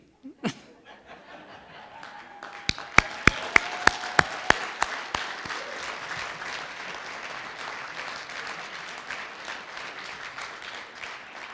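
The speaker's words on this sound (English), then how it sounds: "I think 2 rounds of applause are appropriate." At a winter graduation ceremony, parents and guardians are applauded: after one early knock, several sharp, separate claps ring out close by, then a broad wash of crowd applause with a little laughter swells and holds steadily.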